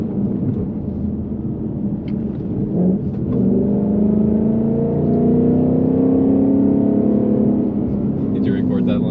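A 2021 Ford Mustang Mach 1 launches and accelerates, its V8 engine note climbing steadily in pitch, loud and close-up, with people talking over it.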